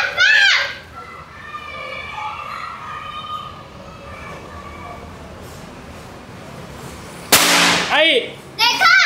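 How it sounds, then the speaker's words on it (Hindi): Mini smoke firecrackers lit by children at a Diwali celebration: sharp bursts and crackles at the start and again near the end, with children's excited voices and chatter in between. "दोनों मिलके ये मिनी पटाखे जला रहे हैं,"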